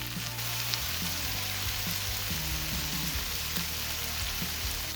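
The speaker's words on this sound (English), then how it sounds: "Flipping the steak slices over to sear the other side." Steak slices for pepper steak sear in a hot frying pan, giving off a loud, dense, continuous sizzle that holds steady from start to finish, with no voices.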